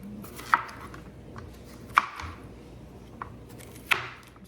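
Three spaced knife chops thud onto a cutting board, with a softer tap between them, as peppers and onion are rough-chopped for a tailgate chili; close and clear with no talking.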